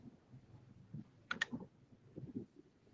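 A few soft, quiet clicks of typing on a computer keyboard come in small bursts, with a sharper pair of keystrokes near the middle, in an otherwise still room.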